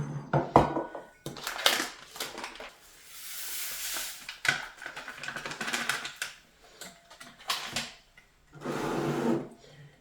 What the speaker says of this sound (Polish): Wlewamy wodę do jakiejś miseczki.